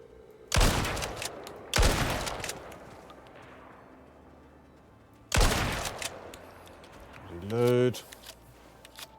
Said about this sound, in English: Let's take care of that one with the shotgun.